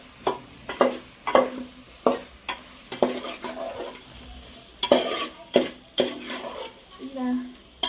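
A spoon or spatula scrapes and knocks repeatedly against a pan while paneer biryani masala of chili powder and salt is stirred and mixed, rhythmic close strokes over a faint sizzle, with a brief murmur near the end.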